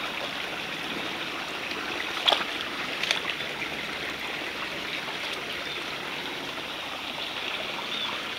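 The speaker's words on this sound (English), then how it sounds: "It's a little trickle of water right now." A small woodland stream trickles steadily over leaves and stones, a soft continuous wash of water with no voices, broken by a couple of faint clicks.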